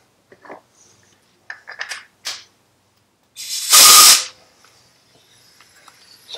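A wrench ratchets on the left-hand-thread 1 1/8 inch clutch center nut of a Shovelhead motorcycle in a few short clicking bursts, followed by a loud hissing spray burst near the middle, then quiet.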